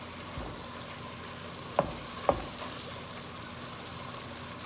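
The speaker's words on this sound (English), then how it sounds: "First thing you do is you brown your ground beef." Ground beef browns in a pan on the stove with a steady, soft sizzle, broken by two sharp clacks of a utensil stirring the meat.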